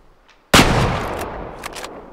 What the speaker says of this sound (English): I don't even know what we were shooting at, to be honest with you